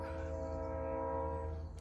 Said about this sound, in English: trains in the background